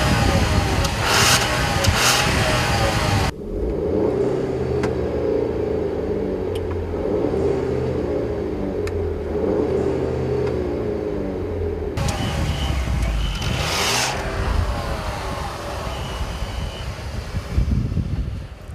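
Cabin view of a 2014 Volkswagen CC R-Line under hard acceleration on a racetrack: a steady low engine rumble with wind roar, easing to a quieter drone midway before building loud again toward the end.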